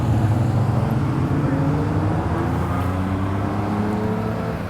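A classic car on a Pebble Beach Tour d'Elegance drive pulls away into the distance, a low, steady engine rumble that fades slowly against open outdoor background.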